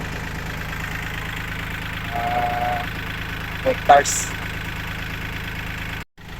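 A farm tractor with a rotor attachment runs at a steady idle on a cassava field, a constant mid-low engine drone carrying on while a voice briefly speaks and a couple of short knocks break in near the end.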